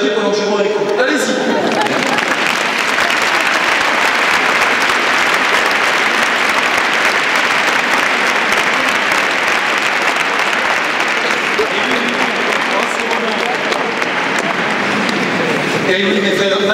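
A church congregation applauds steadily and loudly, a dense sustained wash of clapping filling the large space from start to finish.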